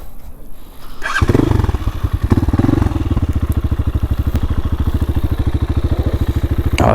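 A Honda Hawk 250 motorcycle fitted with a Power Core 2 exhaust, a kit made for the CRF 230, fires up after a brief quiet moment and settles into a loud, close, steady idle with a rapid, even popping pulse.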